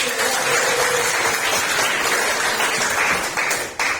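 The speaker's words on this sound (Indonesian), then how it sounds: "Kasih tepuk tangan untuk." Students in a classroom give steady, close applause that carries on for several seconds and then briefly drops off near the end.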